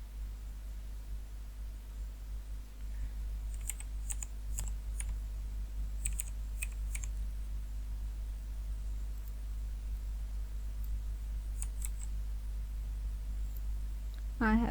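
Quiet computer keyboard typing, a few scattered clusters of light clicks over a steady low electrical hum, with long pauses between keystroke bursts as a password is entered.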